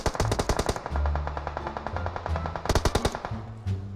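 Bursts of rapid automatic gunfire crackle in the video game BGMI, with quick volleys of sharp shots separated by brief pauses, loud and close, with no talking.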